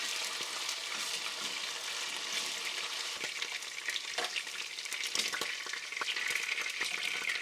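Beef sautés in a pan until browned, giving a continuous bright sizzle with intermittent stirring scrapes and soft utensil taps, close and fairly even throughout.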